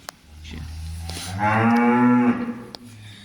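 A cow on a farm in rural Ireland moos once in a long, loud, close call that rises and holds before trailing off, with quieter farmyard rustling around it.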